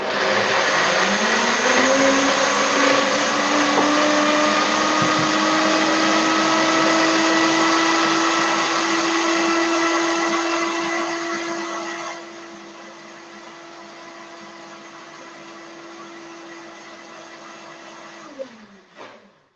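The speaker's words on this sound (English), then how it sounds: "Okay, so I'm gonna blend on the 20-second preset function." An Optimum Evolve blender runs its 20-second preset on cheese, a loud steady whirring motor that drops to a lower, quieter drone partway through before cutting off.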